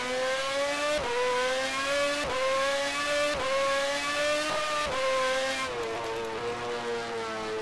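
A superbike engine in the GP Bikes racing game screams as it accelerates out of a corner, climbing in pitch through repeated upshifts, each gear change a brief dip before the steady rising whine resumes, loud and continuous.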